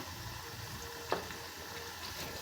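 Ghee cooking in a pan, heard as a faint, steady sizzle and bubbling hiss with a single soft scrape of stirring partway through.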